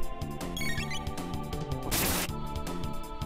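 Crater enemies in the Chrono Trigger video game emit a shrill, high-pitched electronic noise over the game's looping music and sound effects, steady and fairly loud, with a brief noisy burst partway through.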